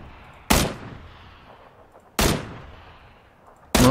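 Gunfire in the video game Battlegrounds: three loud, sharp single shots spaced about one and a half seconds apart, each followed by a short decaying echo.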